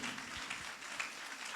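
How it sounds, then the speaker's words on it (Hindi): A church congregation claps for Jesus Christ, a brief, soft, diffuse patter of many hands at a distance, steady and low in level. "जोरदार ताली बजाएंगे यीशु मसीह के लिए"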